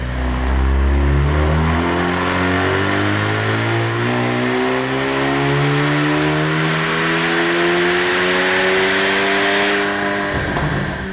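A Kia Stinger 2.5T engine running E40 fuel revs steadily upward under heavy load on a dyno, loud and close, its pitch climbing through a long pull before cutting off near the end.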